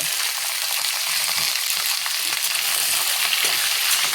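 Bottle gourd greens sizzle and crackle in hot oil with browned garlic in a pan, a bright, dense, continuous frying hiss close up with small pops and stirring, heard alone.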